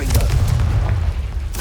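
A Confringo blasting spell bursts in Hogwarts Legacy, a deep rumbling explosion with a heavy low boom that carries for over a second, followed by a brief crackling flare near the end.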